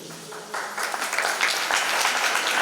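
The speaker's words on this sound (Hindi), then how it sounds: "ताली कम बजी, इसका मतलब कम लोग तैयार हैं।" Audience at a Jain religious class led by a muni clapping, a dense round of applause that swells after a quiet start and holds steady.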